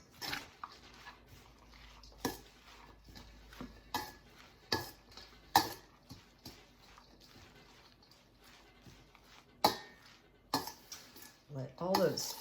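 Kale and quinoa salad tossed in a bowl, a series of separate soft clacks and scrapes of utensils at irregular intervals with quiet gaps between, and a voice briefly heard near the end.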